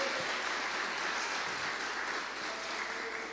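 A church congregation applauds during a sermon, a continuous dense wash of clapping filling the room at an even level throughout.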